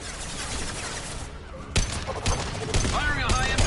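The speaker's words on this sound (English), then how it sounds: "Firing a high-impact shot!" Gunfire in Mass Effect 2, with several sharp bursts of shots and impacts growing denser toward the end, mixed with other game effects and a voice speaking over them.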